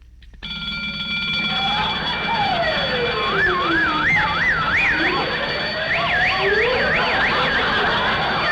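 A loud electronic alarm blares continuously, its warbling, sweeping tones rising and falling in repeated cycles over several seconds, steady and close.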